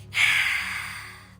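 A single deep breath drawn in during a guided meditation, a steady breathy rush that swells quickly then slowly tapers over about a second, heard alone at close range.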